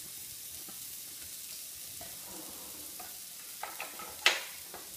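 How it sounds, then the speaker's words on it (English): Shrimp sizzling in a pan with chopped garlic and lemon zest: a steady, close crackling fry throughout, with a few sharper pops and spatters near the end. "So my shrimp's been cooking for about 3 minutes, so I'm going to add to it my garlic that I chopped while it was cooking"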